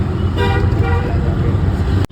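An auto rickshaw ride on a city road carries a steady close engine putter, with a horn tooting briefly amid passing traffic and a voice speaking.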